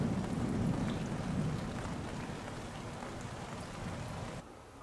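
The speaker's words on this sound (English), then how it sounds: "I'm gonna show you some rain in the Middle East." Rain falling in the Al Hajar Mountains of Oman, a steady close hiss of drops with a low rumble underneath, easing slightly before cutting off near the end.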